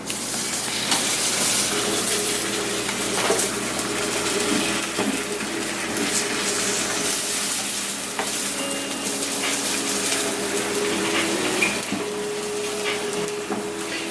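A sunny side up egg fries in a pan over turned-up heat, a steady close sizzle and hiss running unbroken from start to finish with faint clinks underneath.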